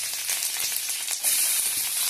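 Mustard seeds, curry leaves and dried chillies frying in oil with chana dal, cinnamon and cloves, giving a steady, bright sizzling hiss that swells louder near the end.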